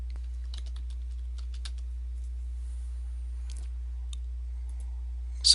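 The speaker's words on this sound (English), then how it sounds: "So type in that search term" Keys on a computer keyboard are tapped in a quick, irregular run of light clicks as a search term is entered, close and quiet over a steady low hum.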